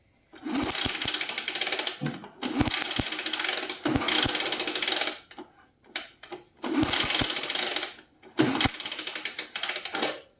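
A motorcycle kick-starter is kicked repeatedly while the ignition coil is tested, giving four loud ratcheting bursts of a few seconds each with short silent gaps between them and a brief faint rattle in the middle.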